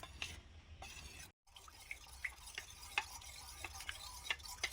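A spoon stirring custard powder into reserved milk in a cup, giving quiet, fairly regular little clinks and ticks against the side over a soft background hiss, with a brief gap of silence early on.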